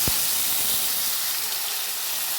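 Dry red chillies and asafoetida sizzle in hot oil as a tempering for a vegetarian barbati (long bean) curry, giving a steady, loud hiss that holds without pause from start to finish, with one brief low thump near the beginning.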